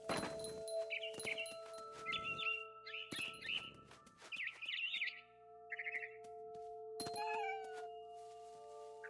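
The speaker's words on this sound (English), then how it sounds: "Then I heard chirping outside my window. It was a barn swallow going back to her nest." A barn swallow chirps outside a window in the video game What Remains of Edith Finch, short bright twittering bursts in a quick series, with game music tones and cat-like cries mixed in, fairly quiet.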